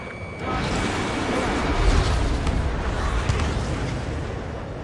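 Weapons fire and explosions from the aerial combat video game Ace Combat 7, a dense continuous roar of blasts and booming bursts layered over loud jet engine noise throughout.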